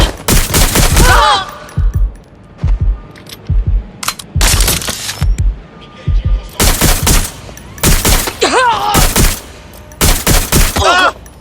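Gunfire in Watch Dogs Legion arrives in loud, close clusters of sharp shots, several separate bursts with short quiet gaps between them.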